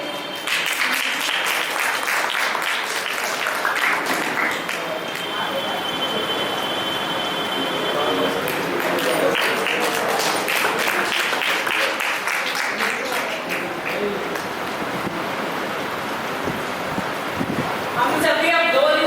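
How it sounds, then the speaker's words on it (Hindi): Sustained, loud audience applause fills the hall at an Arya Samaj annual festival in Rohtas Nagar, Shahdara, a dense wash of clapping that rolls on steadily for the whole stretch. "आप सभी एक बार जोरदार ताली से"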